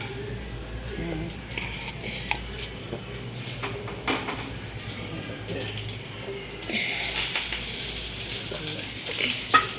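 Onions and garlic sauté in a pan for vatha kuzhambu, a soft sizzle with occasional clinks of a utensil that swells into a louder hiss near the end.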